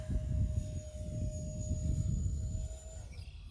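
Horizon Hobby RC A-10 model jet flying outdoors during a landing approach with gear down, a steady whining turbine tone over constant wind rumble that shifts pitch near the end.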